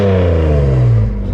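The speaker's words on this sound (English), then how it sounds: "Give it a couple revs." A straight-piped BMW Z3M with an M3 inline-six engine revs loud and close, a dense, buzzing exhaust drone that holds steady and then climbs slightly in pitch before easing off.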